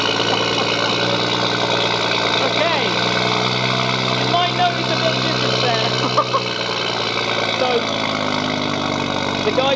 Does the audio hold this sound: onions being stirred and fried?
no